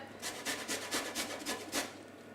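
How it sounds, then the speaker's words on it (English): A lemon rubbed against a sharp grater for zest, heard as a quiet run of about six rhythmic scraping strokes, close and soft, with no talking. "do you want to zest the 4th lemon?"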